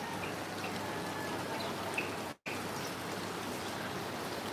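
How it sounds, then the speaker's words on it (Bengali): A heavy downpour hisses evenly and continuously up close, broken by one brief dropout midway. "প্রচুর বৃষ্টি হচ্ছে"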